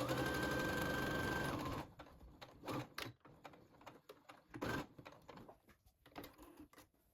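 A sewing machine stitches a shoulder seam in fabric, running steadily at close range for a couple of seconds. It then gives way to quieter, irregular clicks and handling noises.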